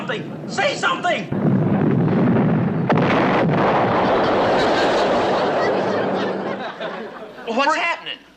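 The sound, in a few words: artillery shell explosion, direct hit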